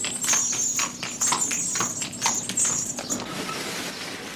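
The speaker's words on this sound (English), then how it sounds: "listen for the symphony of sweet music as Tom leads this horse down a Dublin lane" A Dublin workhorse's hooves clip-clop in a steady walking rhythm down a lane, each strike crisp and close, with a faint high tone running through the first part.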